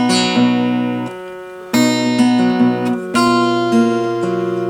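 An acoustic guitar plays a phrase from a piece: plucked single notes and open-string pairs ringing out clearly, with a few fresh attacks layered over the decaying notes and no talking.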